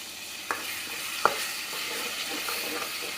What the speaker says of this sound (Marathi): याला मस्त असं या ग्रेव्हीला तेलामध्ये फ्राय करायचं